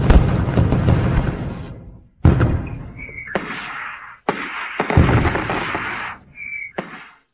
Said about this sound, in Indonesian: masih ada orang yang menyalakan kembang api untuknya